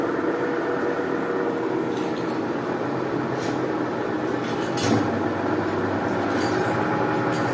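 Sanyo washing machine drum spinning during the spin cycle, a loud continuous whirring rumble with a steady hum and occasional clunks, no talking.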